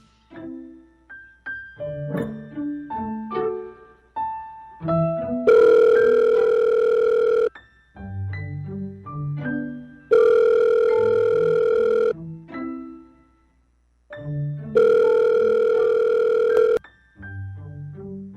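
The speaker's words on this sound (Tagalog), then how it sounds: "kunin ko lang yung cellphone ko. Tawagan ko siya." A mobile phone call's ringing tone repeats loudly, with a short melodic run of electronic notes building into a sustained ringing tone, cycling three times over about eighteen seconds with no voices.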